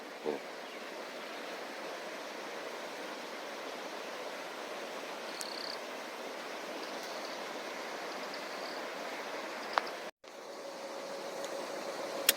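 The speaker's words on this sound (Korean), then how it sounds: "물소리도 어, 시원하게 들리고 강이 꽤 넓네요" A river about 30 metres wide, near Geumdang Valley in Pyeongchang, rushes steadily, a broad even roar of flowing water that barely changes, briefly cut out once near the end.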